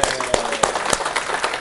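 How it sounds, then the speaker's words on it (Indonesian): A brief patter of audience applause at a business talk, with a few sharp claps standing out in a short, moderately loud burst. "Tepuk tangan buat kita semua."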